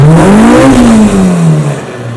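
A K20-engined car accelerates on a test drive, its engine note climbing steadily in pitch, loud and close from inside the cabin, then easing off near the end.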